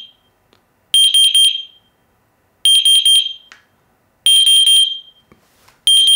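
An X-Sense Wi-Fi water leak detector is sounding its test alarm, loud, shrill piercing beeps in bursts of three, repeating four times with short silent gaps between them, close by.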